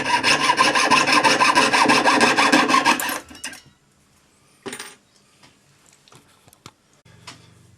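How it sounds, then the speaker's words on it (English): Hand saw cutting through metal ring shank wire for a riveted bead ring, a steady rapid rasping for about three seconds, then stopping, followed by a few faint scattered clicks and taps. "so cut it with your saw."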